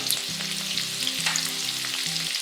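Mustard seeds, green chili and asafoetida crackle and sizzle steadily in hot oil in a pan while making bhadang, a busy close frying hiss with no talking.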